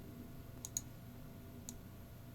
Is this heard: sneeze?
no